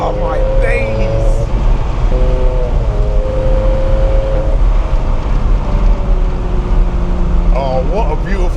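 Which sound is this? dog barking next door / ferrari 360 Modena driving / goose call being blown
ferrari 360 Modena driving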